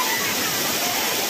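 Aintharuvi waterfall spraying and crashing down makes a loud, dense, unbroken roar of falling water very close by, filling the whole brief moment.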